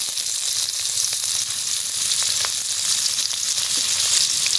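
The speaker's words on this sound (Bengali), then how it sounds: "আলু দিয়ে ভালোভাবে ভেজে নেব।" Potatoes frying in mustard oil in a wok, a steady close hiss of sizzling that runs without a break, with faint occasional ticks and pops underneath.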